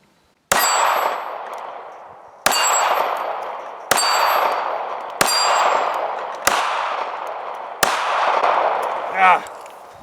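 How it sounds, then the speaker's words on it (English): A Ruger LCP II handgun fires six shots at a steel gong. Each sharp crack lands with a bright metallic clang that rings and fades before the next, in an uneven rhythm about one to two seconds apart. "Let's go ahead and see if we can hit the gong."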